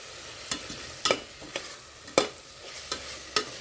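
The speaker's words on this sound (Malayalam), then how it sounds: "ചിക്കൻ മസാലപ്പൊടി, മുളക് പൊടി, മഞ്ഞൾപ്പൊടി, മല്ലിപ്പൊടി എല്ലാം കൂടിയിട്ട് മിക്സ് ചെയ്യും കേട്ടോ" Masala stirred in a pan with chicken masala, chilli, turmeric and coriander powders, sharp spoon scrapes at irregular intervals over a low sizzle, close by with no talking.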